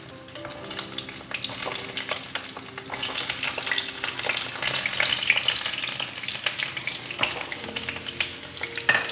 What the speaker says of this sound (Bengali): পটলগুলোকে এবার ছেড়ে দেব একটু লাল লাল করে ভেজে নিতে হবে